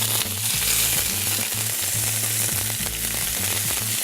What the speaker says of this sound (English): we've got oil which is nice and hot now. I'm just going to brown the chicken.